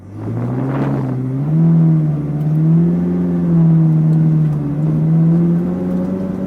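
A salvage Ferrari engine rumbles loudly up close, rising slightly in pitch as it pulls away slowly in first gear and holds a steady, throaty drone.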